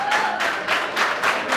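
A wrestling crowd in Philadelphia gives a short burst of applause and cheering, a broad, dense rush of clapping from a large arena audience, steady and fairly loud, with faint commentary underneath.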